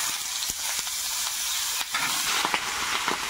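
Eggplant sizzles in hot oil with neem leaves and spices, a close, bright hissing fry with a few sharp crackles and pops throughout.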